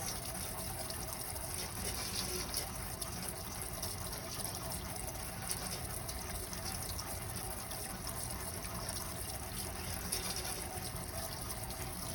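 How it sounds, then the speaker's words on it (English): Green peppers are rinsed under steadily running tap water. The gush is continuous and fairly even throughout, with no talking. "These are really pretty clean, but I'm just giving them a good rinse."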